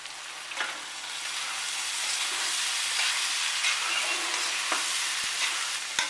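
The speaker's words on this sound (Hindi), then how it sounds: "बीच में एक बार चला देंगे जिससे कि सब्जी नीचे लगे ना" Mixed vegetable sabzi cooks in a pan with a soft, continuous sizzle, broken by a few scraping strokes of a spatula stirring it, with no talk.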